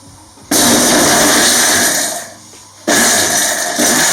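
A mixer grinder whirs loudly in two bursts, a short pause between them as the blades grind dry rasam spices coarsely.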